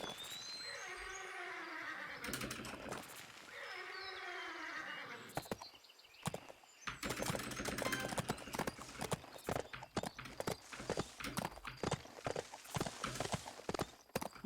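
Hooves of a horse in the Bibi & Tina video game clip-clopping in a steady rapid rhythm, faint and close, with a few whinnies early on and no talking.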